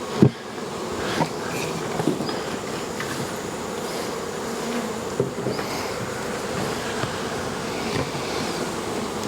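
Honey bees buzz around a hive during mite treatment, a dense, steady drone close by with a few soft knocks, and no talking.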